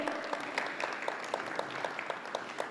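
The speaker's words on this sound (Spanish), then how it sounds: "Un aplauso, que viene del aeropuerto corriendo" Audience at a conference applauding to welcome an arriving speaker, a moderate round of clapping with individual claps standing out, fairly distant and steady throughout.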